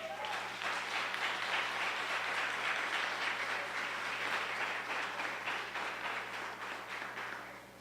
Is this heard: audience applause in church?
yes